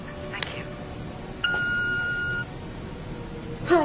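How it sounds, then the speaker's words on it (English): A single steady electronic answering machine beep sounds for about a second over a quiet background hiss. "please leave a message after the long beep"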